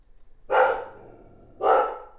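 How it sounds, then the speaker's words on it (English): A dog at home gives two sharp barks about a second apart, fairly close and loud, with quiet room tone between them and no talking. "The dog."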